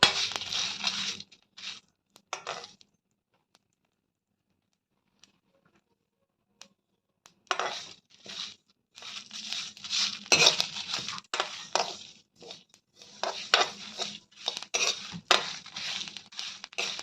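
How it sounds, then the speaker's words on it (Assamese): After a long near-silent stretch, spices frying in a pan bring bursts of scraping and metallic clinking as a utensil works against the pan, irregular and close. "চাওক, মোৰ মছলাখিনি ভাজা হৈ গৈছে"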